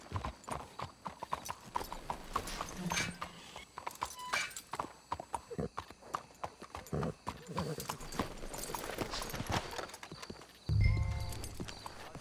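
Horses in Red Dead Redemption 2 walking with steady clip-clop hoofbeats on the ground, close and continuous, with a whinny near the end and faint game dialogue underneath.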